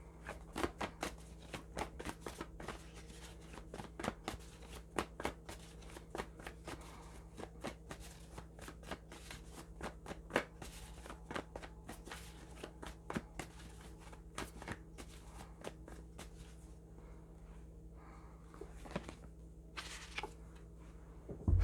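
A journal prompt card deck being shuffled by hand, a long run of quick crisp riffling clicks and snaps at close range, steady and fairly quiet, with no voices.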